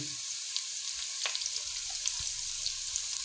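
Fish pieces frying in a pan on a stove for fish curry with onions and green chilies, giving a steady, moderate hiss of hot oil with a few small pops and clicks.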